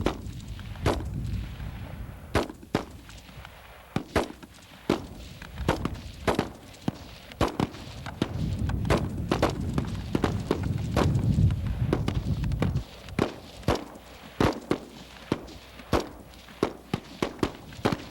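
Rifle fire on an outdoor shooting range during a platoon's graduation training, with sharp, irregular shots cracking out one after another at close to medium distance and a low rumble of wind or movement between them.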